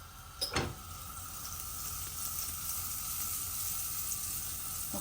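A knob of butter melts and sizzles in a hot frying pan before bread is toasted. A couple of sharp clicks come first, then a soft, even sizzle continues at low level without speech.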